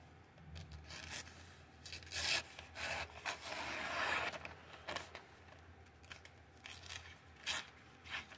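A Vosteed Raccoon folding knife slicing through material, giving repeated close scraping, rasping cuts in uneven strokes with brief pauses, no talking over it.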